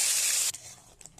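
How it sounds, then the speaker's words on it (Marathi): A loud, steady hissing sizzle for about half a second as ground spice paste hits hot oil, then it drops away to quieter background noise. "मिक्सरमध्ये बारीक केलेलं वाटण तेलामध्ये चांगले परतून घेऊया"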